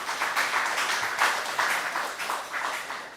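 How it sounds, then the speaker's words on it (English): Audience applause at a distinguished speaker seminar, a moderate wash of clapping from a seated crowd lasting a few seconds, fairly even throughout. "A big round of applause."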